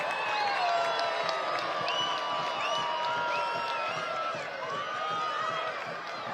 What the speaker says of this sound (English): Crowd roars because it might just take one more kick.